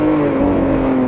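A new Lamborghini Countach with an 814-horsepower V12 accelerates, a loud, steady, close engine roar with a rising harmonic whine and no voices.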